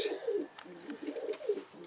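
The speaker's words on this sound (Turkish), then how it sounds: "İçeride şüpheli bir kuş var" Soft, low cooing of a pigeon repeated in a steady rhythm, close by in a quiet coop, with faint rustling.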